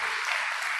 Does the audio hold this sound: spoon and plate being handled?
no